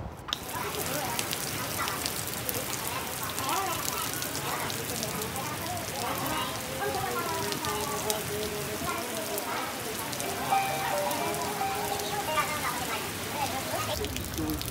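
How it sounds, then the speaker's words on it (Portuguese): Heavy rain pattering hard on surfaces in the historic centre of Paraty, Brazil, a dense continuous hiss that fills the whole stretch, with faint voices and movement mixed underneath. "tá chovendo de novo por aqui, muito."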